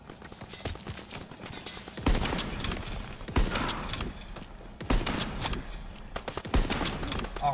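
Repeated rifle shots and scattered gunfire in a WW2 sniping video game, sharp cracks at irregular intervals over a steady battle din, with faint talk now and then.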